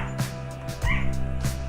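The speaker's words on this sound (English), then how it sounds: "Yes, that's my dog. That's my dog. He loves being part of the stream." A pet dog barks close by in short sharp yips, three or four quick barks over a steady background tone.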